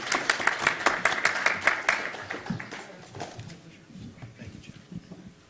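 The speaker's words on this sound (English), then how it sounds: "if you'll join me in giving Mr. Richburg a round of applause as he goes to the next room." Conference audience applause for a departing speaker in a breakout session room: dense clapping that swells briefly, then thins to scattered claps and fades over a few seconds.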